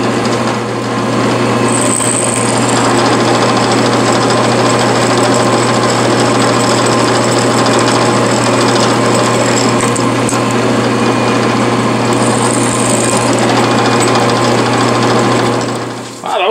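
An eighth-inch Harbor Freight bit drills holes in quarter-inch 1018 steel with a steady, loud, whining motor drone that runs almost unbroken for about sixteen seconds, with brief high squeals as the bit cuts.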